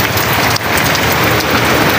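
Steady heavy rain pours down on a small farm during a storm, a dense continuous hiss of drops hitting surfaces close by, with no voices.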